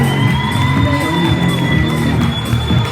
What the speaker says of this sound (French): Allez, applaudissements pour les 4 garçons qui ont joué le jeu.